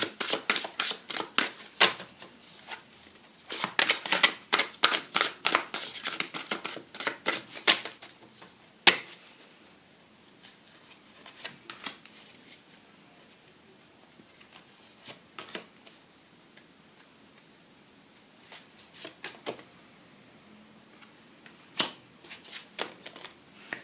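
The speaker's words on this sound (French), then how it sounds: "Je vais tirer encore des cartes supplémentaires sur cette zone." Tarot cards are shuffled and drawn. Dense riffling bursts in the first seconds give way to sparse, separate snaps and flicks as single cards are pulled, with no talking.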